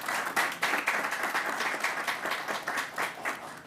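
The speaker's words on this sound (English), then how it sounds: "So let's give them a round of applause." A room at a New York COVID briefing breaks into steady, moderately loud applause, dense clapping from a modest crowd holding for a few seconds.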